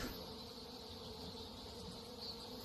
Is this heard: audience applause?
no